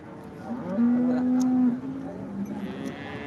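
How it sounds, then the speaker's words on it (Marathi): A cow at a crowded cattle market gives one loud, drawn-out moo near the start, followed by fainter market noise and a short distant call. "तुम्हाला पाठीमागून गाय दाखवतो"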